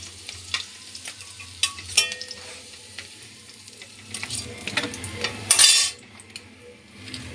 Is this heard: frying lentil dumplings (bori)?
yes